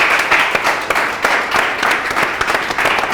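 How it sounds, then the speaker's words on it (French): Audience applause for the winner of an art contest finale, a dense, loud, steady patter of many hands clapping with no one speaking. "C'est vos applaudissements."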